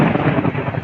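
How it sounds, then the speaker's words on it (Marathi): Heavy rain rushes down steadily over an outdoor market in Bhigwan, a dense, loud, continuous wash of noise with some wind rumble through the brief stretch. "पाऊस येतोय पाऊस."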